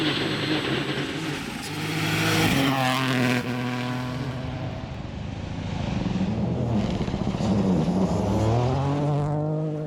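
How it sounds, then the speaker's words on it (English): A Toyota rally car engine roars and revs at high speed on a stage, rising and falling in pitch through gear changes. The sound is continuous and fairly close. "that feeling of being in a rally car at speed"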